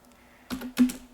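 A few soft keystrokes on a computer keyboard, two or three quiet clicks close together in a brief burst over a faint background hum.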